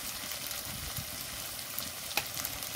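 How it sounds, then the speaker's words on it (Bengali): Spices with salt and turmeric fry in oil in a pan for a Bengali lote fish curry, giving a soft steady sizzle with faint stirring scrapes, close and fairly quiet. "এবার ভালো করে কষে নেব।"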